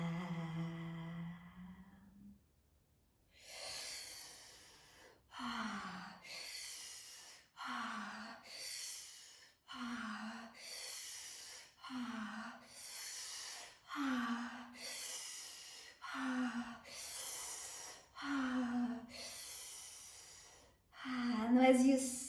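Deep rhythmic breaths during tantric breathwork, about a dozen strong inhale-exhale cycles repeating steadily every couple of seconds, close and fairly loud, following a brief low hum at the start.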